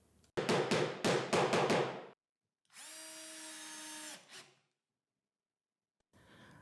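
Power tool routing a channel into wood for a height-adjustment slot on a combined drill press, lathe and router table build: several loud close bursts of cutting, then a sustained whining motor with a steady tone that winds down, and a brief faint rustle.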